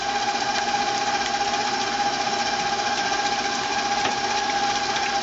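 An electric mixer spins coconut flour berry muffin batter with a steady, continuous motor whine and buzzing vibration, close and unchanging throughout.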